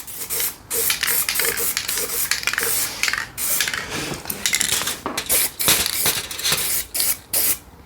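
Bursts of aerosol spray paint hissing in repeated short blasts onto a Honda NTV 650 cafe racer motorcycle, with light clinks of metal between them, close and fairly loud.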